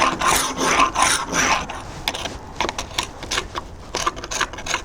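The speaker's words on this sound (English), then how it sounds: "I'm going to put a few extra strokes on these glue joints" Repeated hand strokes rasp over glue joints on a wooden piece being refinished, a steady run of scraping rubs at close range, busy and loud at first, then breaking into shorter separate passes, with no talking.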